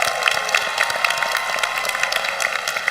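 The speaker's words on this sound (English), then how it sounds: "Let's give them one more big round of applause." Audience applause at a 2024 college commencement ceremony in Northern California, a fairly loud, even patter of many hands with scattered sharper claps, sustained without letup over a few seconds.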